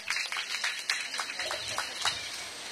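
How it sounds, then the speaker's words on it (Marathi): Women at a community gathering clap for a participant, a faint, fairly brief patter of applause heard from a moderate distance with a thin high tone running underneath. "जोरदार टाळ्या माऊलींच्यासाठी."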